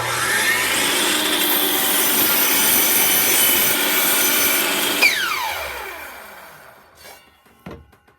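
A power saw rips along a cedar board, a loud steady whine with grinding wood noise for about five seconds, then the blade spins down in a falling tone, followed by a few faint clunks as the workpiece is handled.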